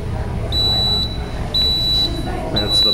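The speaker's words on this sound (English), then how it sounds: "That's the buzzer." A waffle maker buzzer goes off in three evenly spaced high electronic beeps, each about half a second long, over a low background hum while someone speaks.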